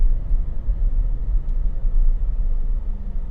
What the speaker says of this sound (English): We're going to apply some brakes right here.